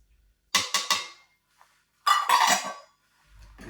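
Softened butter and sugar mixed in a bowl, two short bursts of scraping, clinking strokes against the bowl, the first a quick triple scrape and the second a longer rough churn.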